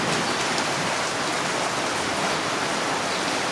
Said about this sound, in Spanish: Lluvia, agua bendita.